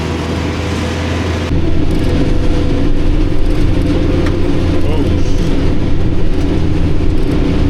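Kioti tractor engine driving over bumpy homestead ground, a loud steady rumble and whir that picks up after a moment and stays close, with someone talking over it.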